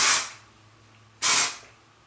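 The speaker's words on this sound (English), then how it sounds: "So section off and just spray a little bit right at the roots." Texturizing hair spray aimed at the roots of sectioned hair, two short, close hissing bursts from an aerosol can with a quiet gap between them.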